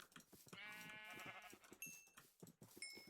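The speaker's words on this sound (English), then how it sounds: "It feels so good having sheep in an actual barn." Sheep bleat inside a barn in the video game Minecraft, one long wavering bleat up close followed by short synthetic chimes and a second burst of bleating, with no talk.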